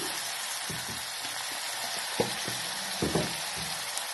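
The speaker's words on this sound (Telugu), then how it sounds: "ఉల్లిపాయలు వేసుకున్నాను. ఉల్లిపాయలు కొంచెం వేగాలి." Onions softening in a pan for a barbati beans curry give a soft, steady sizzle, broken by a few scattered taps of a stirring spoon, with no voices.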